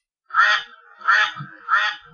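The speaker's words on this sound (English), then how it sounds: "Can you hear my phone? It quacks." A phone ringtone made of duck quacks sounds three times, evenly spaced, each a clear nasal quack close to the microphone, with silence before it and no talk.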